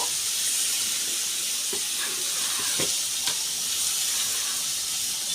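Tomatoes cooking in a pan with salt for nalleru chutney give a steady, close sizzle, with a few soft stirring scrapes partway through and no talk over it.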